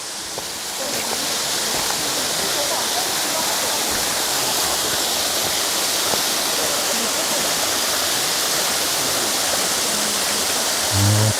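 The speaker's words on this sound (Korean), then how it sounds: "정말 멋진 폭포입니다." Steady, full roar of rushing water from Jeolgu waterfall in Juwangsan mountain park, a close, continuous broadband wash that holds constant throughout with no talking.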